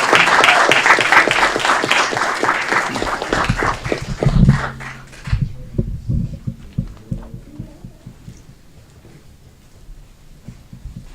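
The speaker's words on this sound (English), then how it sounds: "Big round of applause." Audience at a city ceremony in Aurora honoring a city employee breaks into loud applause that fades out midway, leaving a quieter room with low murmuring.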